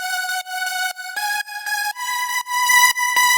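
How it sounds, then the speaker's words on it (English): A bright, high-pitched synth lead from the Vital synth plays a stepping melody of sustained notes with a thin, buzzy tone, alone and fairly loud, recreating the lead from a song. "It's a very high-pitched lead that's kind of back in the mix a little bit"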